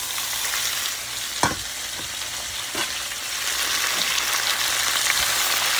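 Leafy greens fry in a pan with a loud, constant sizzle and crackle, interrupted by several thuds and scrapes as the greens are stirred and tossed.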